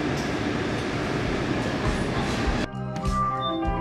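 Sofia metro train pulling into Sofia Airport station, a loud steady rumble of wheels on rail that cuts off abruptly near the end, leaving quieter tonal hum and station sounds.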